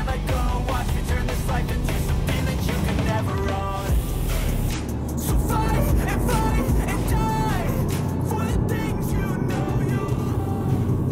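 A 2022 Toyota GR Yaris in track mode with 50-50 drive distribution accelerates on a circuit, its engine roaring loud and steady throughout, with voices talking over it.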